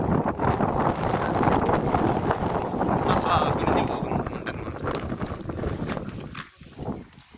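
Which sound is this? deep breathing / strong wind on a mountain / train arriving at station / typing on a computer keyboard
strong wind on a mountain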